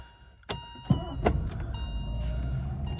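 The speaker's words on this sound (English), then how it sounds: "we're gonna go ahead and put the key in and fire it up." A 1985 Mercedes 500SEL European-spec sedan starting with the key: a few sharp clicks and clunks, then the engine catches and settles into a steady, close idle, with no talking.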